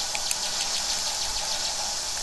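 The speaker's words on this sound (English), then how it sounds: "We get to ride this bike." Ride chaser bike in the Mega Man X4 video game, a steady buzzing engine drone with a bright hiss on top, constant and fairly loud for two seconds.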